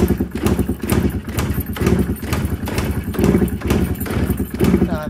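A motorcycle engine, a Mitsubishi Mivec-engined bike, runs with a loud, steady, uneven putter throughout, its low rhythmic pulsing close by and alone with no talking.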